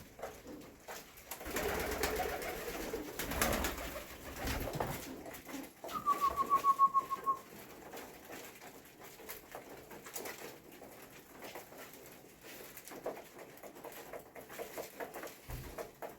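Pigeons in a pigeon loft coo softly amid light pattering and rustling, with one clearer drawn-out call midway; the scene is quiet and close, with no talking.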